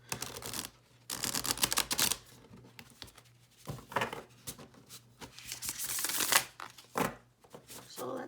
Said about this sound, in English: I am a riffle shuffler.